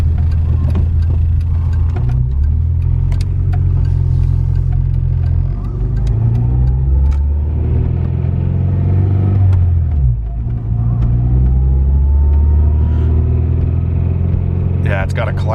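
A clean, naturally aspirated Honda Civic engine idling and pulling near 2,000 RPM, a steady mid-pitched drone with subtle rev changes and a faint underlying clatter, heard from inside the cab with voices talking over it.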